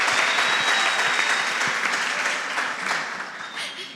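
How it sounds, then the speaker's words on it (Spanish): An audience at a church discussion event applauds to welcome a guest doctor, with steady, full clapping throughout that eases slightly toward the end. "Entonces, por favor, un aplauso"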